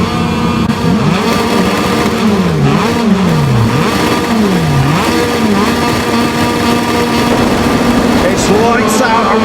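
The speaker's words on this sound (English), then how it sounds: "Lights out and we're racing in Moto2." Moto2 racing motorcycles scream away from the starting grid at the Thai Grand Prix, a loud, continuous pack of high-revving engines with pitch sweeps rising and falling through gear changes, while a commentator talks over the roar.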